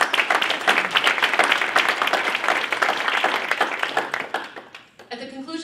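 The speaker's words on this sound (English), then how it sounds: "Let's give them a round of applause." Banquet audience applause at an alumni athletic hall of fame awards ceremony, a dense, lively clapping that holds strong and then tapers off, with a voice beginning to speak as it fades.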